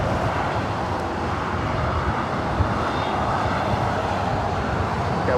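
An airliner takes off from runway 24 right at LAX, its jet engines producing a loud, steady roar with broadband rumble and a faint whine, close and unbroken throughout.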